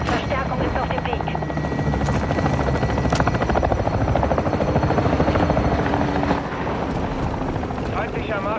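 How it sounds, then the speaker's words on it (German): A cargo helicopter attacks in a military shooter video game, its rotor chopping loudly and continuously with a steady rhythmic beat, while game voice announcements play over it. "Frachtheli ist im Angriff."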